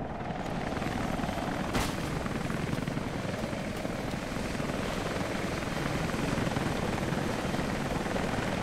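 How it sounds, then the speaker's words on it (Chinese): A helicopter departs in the video game Rise of the Tomb Raider, its rotor drone a dense, continuous roar that holds at a steady level from start to finish. "第二指挥中心，最后一台直升机已经出发。"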